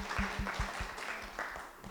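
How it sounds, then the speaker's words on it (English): An audience at a cannabis entrepreneur conference in New Jersey claps for a panel, a quiet, brief burst of scattered hand claps heard from some distance. "Let's give them a round of applause"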